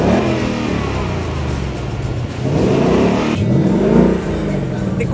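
A Ford Mustang V8 engine in normal mode revs loudly up close, its deep roar rising and falling in several throttle blips with no voice over it.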